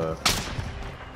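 A single sharp gunshot cracks out loudly in a shooter video game, a sniper round landing amid continuous background game noise with a voice present faintly around it.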